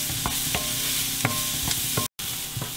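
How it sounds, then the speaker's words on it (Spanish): Chopped onion and celery fry in a pan, a steady close sizzle with repeated scraping stirs of a utensil every half second or so, and a brief dropout near the end. "y voy a poner la cebolla. El apio. Y voy a dejar que se cocine por un ratito"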